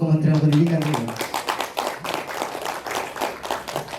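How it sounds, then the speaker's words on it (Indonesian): Audience clapping for the Ministry of Education during a teacher's presentation, a thin patter of scattered hands that follows a speaking voice and continues moderately loud for several seconds. "saya kira kita tepuk tangan untuk Kementerian Pendidikan ini"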